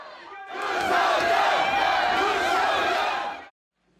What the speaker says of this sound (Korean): 밖에서 회의를 지켜보던 윤 대통령 지지자들은 환호했습니다